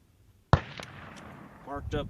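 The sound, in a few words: gunshots from a Century RAS-47 rifle in the desert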